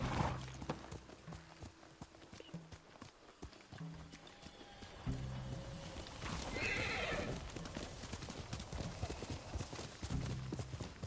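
Horse in the Ghost of Tsushima video game whinnying and clip-clopping, with neighs and hoofbeats repeating over a busy game soundscape and music, loud and close throughout.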